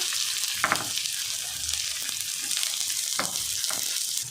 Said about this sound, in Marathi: अद्रक आता चांगलं परतून घेतलेला त्यानंतर बारीक चिरलेला कांदा